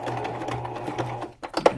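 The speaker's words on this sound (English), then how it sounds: "If my sewing machine will cooperate." A home sewing machine set to a middle zigzag stitch whirs in a steady run of rapid, rhythmic stitching, then stops briefly and restarts in short uneven bursts.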